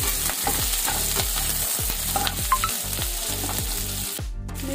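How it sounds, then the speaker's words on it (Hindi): Steady, crackling sizzle of onions and a bay leaf frying in hot oil, close up, with rhythmic scraping as they get stirred, no voices. "प्याज डाल रही हूँ, एक तेजपत्ता डाल रही हूँ"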